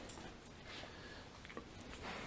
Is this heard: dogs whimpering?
yes